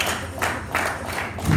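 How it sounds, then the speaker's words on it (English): Church congregation clapping hands together in celebration, a steady rhythmic clapping with a few louder beats and voices mixed in underneath. "Clap your hands and celebrate God"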